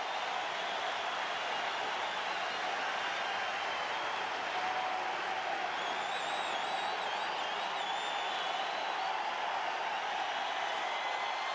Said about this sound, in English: crowd looking for another K for Clemens